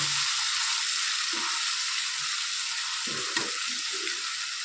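Chopped onions sauté in a hot oiled pan with cumin, salt and turmeric, giving a steady, moderate broadband sizzle that holds even throughout, with a few faint stirring clicks and scrapes near the end.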